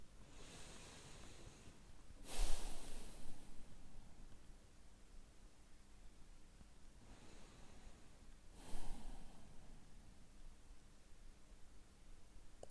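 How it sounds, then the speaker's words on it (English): Slow, deliberate breaths in and out during a guided relaxation, two soft airy swells standing out around the start and later, quiet and close with long still gaps between. "long and aware the breathing in and breathing out"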